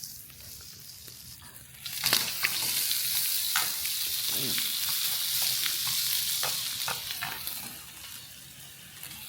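Bacon and eggs fry in a pan with a steady, close sizzle that starts abruptly and holds throughout, broken by scattered pops and light utensil scrapes, with no talking.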